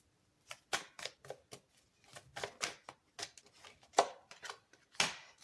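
Oracle cards are shuffled by hand in a quiet room, giving a string of quick, crisp riffling bursts and soft slaps in an irregular rhythm, close and fairly quiet with no talk.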